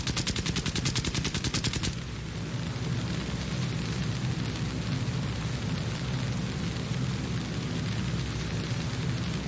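An aircraft's guns firing in the War Thunder video game, a rapid, loud burst of machine-gun fire for about two seconds, followed by a steady roar of engine and battle noise.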